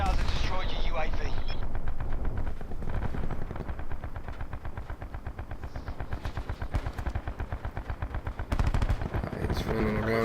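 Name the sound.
SG 12 shotgun gunfire in the Black Ops 4 video game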